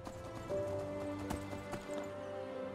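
Horse hooves clip-clop steadily in the video game Enderal, a quiet rhythmic trot over a low ambient game soundscape, with a soft sustained tone in the background.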